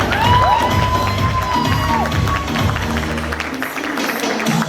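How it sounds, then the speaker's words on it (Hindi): An audience cheers and claps for a Spogomi garbage-pickup team heading to the world cup in Tokyo, a loud mix of shouts, whoops and applause with children's voices and whistle-like tones over a busy crowd. "तालियां इनके लिए बेशुमार तालियां"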